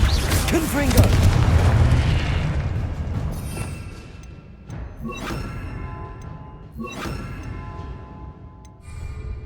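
A heavy explosive spell goes off in Hogwarts Legacy: a big, loud, rumbling boom at the start that slowly fades, followed by lighter crackling blasts and impacts. A voice calls out spell names over it.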